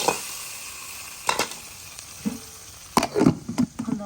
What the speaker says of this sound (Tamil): கொஞ்சம் நல்லா பொன்னிறமாக்கி ஊற்றி தாளிச்சு மூடி வச்சு